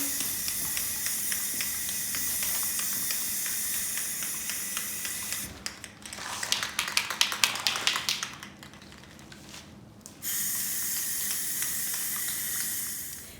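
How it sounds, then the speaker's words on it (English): Rust-Oleum paint and primer hisses from a spray can onto a chandelier in rapid sputtering bursts midway, framed by steady background hiss before and after. "Now we're going to cover the chandelier with the Rust-Oleum paint and primer in one, and we have the color French Cream."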